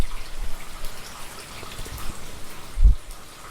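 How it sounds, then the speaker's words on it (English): Light to moderate rain falling with very low winds during Hurricane Ian in a Florida retirement community, heard as a soft patter of drops with a few closer taps and one louder thump near the end, with no voices. "we're getting some light to moderate rain with very low winds here"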